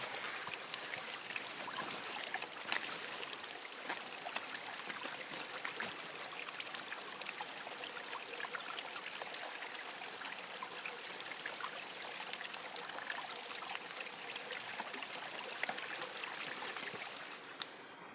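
Homemade hydraulic ram pump running on flowing water, a steady continuous rush and trickle of water throughout, close and fairly even in level with no voices.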